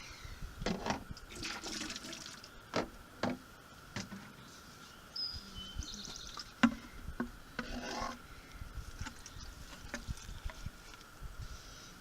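Water splashes and trickles onto potting soil around a transplanted polka dot plant in uneven bursts, with rustling and scraping mixed in, fairly close and moderately loud.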